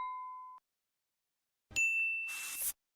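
A subscribe notification bell plays: a short pure tone, a pause, then a bright metallic ding with a shimmering ring that cuts off abruptly.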